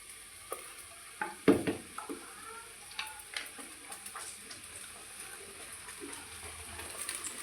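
Soya chunks stirred and sautéed in a pan, giving a soft steady sizzle broken by scraping and clinking knocks of the spoon, loudest early on and then settling into lighter irregular taps.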